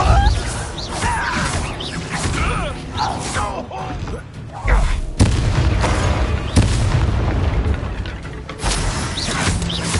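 A Depulso spell cast in Hogwarts Legacy on PS5 amid combat, heard as loud booming blasts and crashing impacts with mechanical clatter and swooshes, layered with game sound effects and brief voice sounds.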